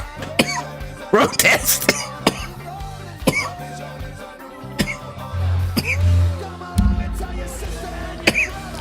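A person coughs in several sharp bursts outdoors at night, close to the recording, amid ongoing talking and background commotion.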